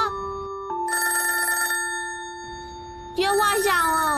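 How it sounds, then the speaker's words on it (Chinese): A telephone rings in an animated family cartoon, its bright electronic bell repeating in short bursts with brief gaps, followed by a voice speaking over it near the end. "电话响了。"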